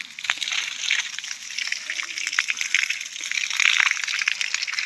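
Water splashes and trickles steadily from a drip irrigation pipe at a mango tree, a continuous sloshing flow close by with small irregular spatters throughout.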